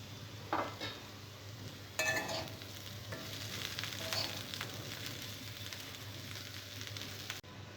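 Ivy gourd pieces, sliced onion and peanuts fry steadily in a pan, a soft continuous sizzle with a few clinks of a spatula against the metal near the start, no talking.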